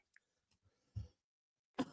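Two short, quiet coughs or throat clears separated by near silence, the first soft and low, the second sharper.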